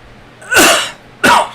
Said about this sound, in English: Just coughed right in the mic.